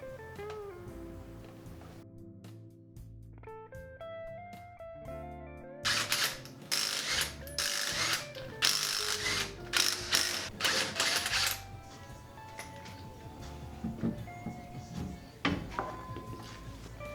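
A ratchet wrench removing suspension bolts on a Subaru Forester, rapid clicking ratchet strokes in bursts with metallic clanks, close and moderately loud, no talking.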